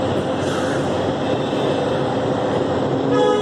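The Nilgiri Mountain Railway toy train at Coonoor station, a steady close rumble of rolling cars with a faint tonal horn-like note near the end, heard with no talk.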